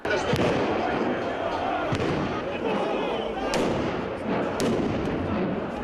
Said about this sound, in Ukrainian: Навкруги починають безперервно розриватися вибухові пакети.